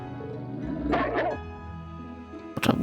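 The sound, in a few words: dog barking in the video game Trails of Cold Steel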